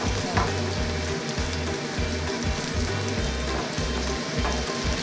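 Onion and garlic sauté in a pan for an Arabic shrimp dish, giving a dense, close sizzle that sounds like steady rain, over a faint, pulsing low hum. No one speaks.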